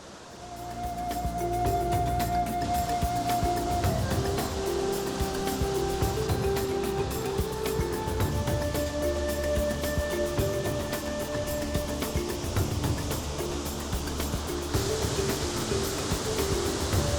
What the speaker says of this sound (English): I can hear the water getting louder and louder as we continue to walk.